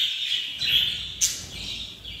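Budgerigars in a colony give quick, high, bright chirps in short bursts, with one sharper call near the middle, fairly close, with no voices.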